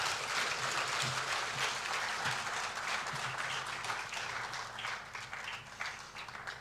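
Audience applause fills a swearing-in ceremony for new security chiefs, a steady wash of many hands clapping at moderate level throughout, with a faint low murmur underneath.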